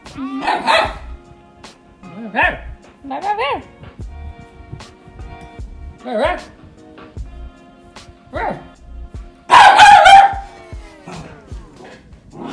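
Several dogs bark in short bursts across the scene in a garage, with a loud close burst of barking near the end, while people talk intermittently between the barks.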